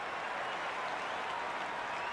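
A cricket crowd applauds after a perfectly timed shot, dense continuous clapping that stays even and full throughout with no distinct voices standing out.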